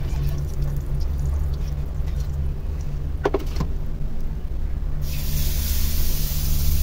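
Oil hits a hot pan for frying fish in a home kitchen; after a quiet stretch of low kitchen hum, a loud, close, broadband sizzling hiss bursts in and keeps going to the end.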